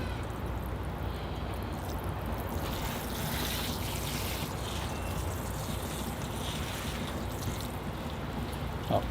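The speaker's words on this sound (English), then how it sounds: "All right, here I go with the water. Get a good soaking." Water pours onto the soil of a ginseng ficus bonsai in its tray, a steady soft hiss and trickle of soaking that continues without a break, close by and with no talk.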